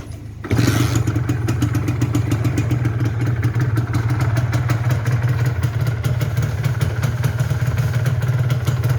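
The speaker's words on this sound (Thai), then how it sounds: "เดี๋ยวเรามาฟังเครื่องเสียงเครื่องกันนะครับ สตาร์ทง่ายๆ ทีเดียวติดเลยนะครับ" A 1996 Honda Dash 125 motorcycle engine fires up on the first try after a brief moment of quiet and keeps running at a steady, loud idle with a rapid rhythmic putter.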